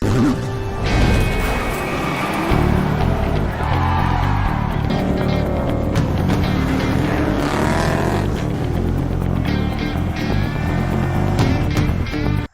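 Race cars roar along during a car race in a film, engines droning continuously and loudly with passing whooshes, layered under dramatic music.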